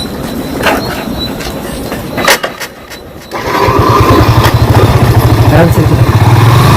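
A motorcycle engine on a road starts up after a few seconds of rustling and voices, then runs with a steady, loud, close throb through the rest, with people talking over it.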